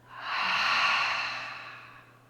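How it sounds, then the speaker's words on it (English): A long, soft breathy exhale through an open mouth during a prenatal yoga breathing exercise, rising gently and trailing off over about two seconds, close and alone with no talk. "Open the mouth as you exhale out."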